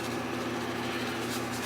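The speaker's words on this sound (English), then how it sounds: "Sorry about the fan, guys." An electric fan running in a warm room gives a steady, faint, even whoosh with a low hum underneath, unchanging for the full two seconds with no speech.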